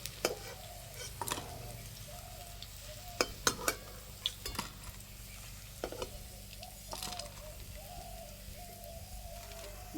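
Cauliflower pakoras fry in hot oil, a low, quiet sizzle with occasional clinks and stirring taps, while birds chirp faintly in the background.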